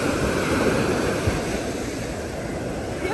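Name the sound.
ocean waves on the beach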